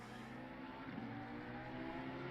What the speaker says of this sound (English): Oh, it's just a car under braking.